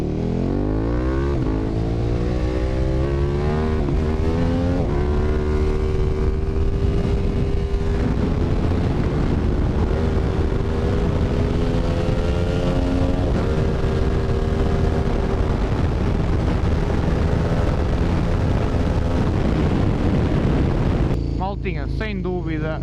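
A reprogrammed KTM 1290 GT motorcycle engine roars continuously at high volume while riding, with rising and falling revs throughout and a voice partly heard over it.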